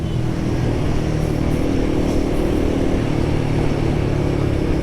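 Royal Enfield Guerrilla 450 motorcycle being ridden, its engine droning steadily and loudly throughout with a constant mid-range hum and wind roar, no speech over it.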